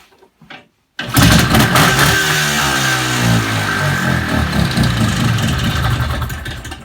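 An IZh Planeta 5 motorcycle, recently revived from poor condition, fires up after a brief silence and runs loud and close, its two-stroke engine burbling steadily with fluctuating revs before easing slightly at the end.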